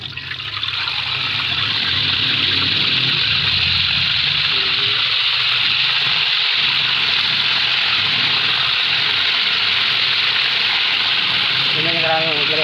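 Tilapia fries in plenty of hot oil in a pan, a loud, dense, continuous sizzle that stays steady close up, with a brief voice near the end.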